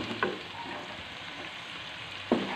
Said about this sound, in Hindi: अब इसमें डालते हैं ये मटर डाल देते हैं